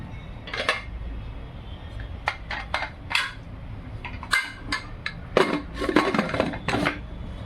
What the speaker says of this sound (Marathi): आता आपण कुकरचं झाकण लावून घेऊया.